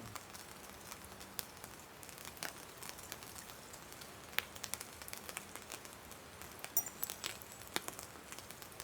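Rain falls outdoors as a faint, steady patter of scattered drops, with occasional sharper ticks and no talking.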